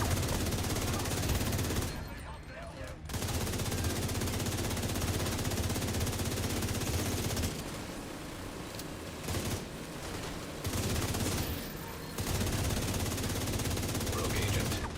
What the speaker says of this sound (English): Minigun power restored.